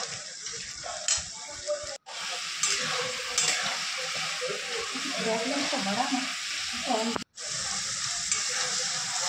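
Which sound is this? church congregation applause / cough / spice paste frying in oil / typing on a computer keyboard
spice paste frying in oil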